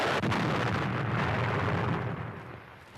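A sniper rifle shot in a WW2 war film lands as one heavy blast, followed by a rolling echo that fades over a few seconds.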